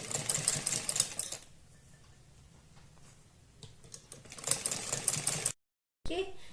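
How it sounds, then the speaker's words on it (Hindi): A sewing machine stitches along the edge of fabric for a colourful neck design. It runs in two rapid, rattling bursts, one at the start and one near the end, with a quieter pause between them. "और फिर इसमें किनारे से थोड़ी दूरी पर इस तरह से एक सिलाई लगा देंगे चारों तरफ को।"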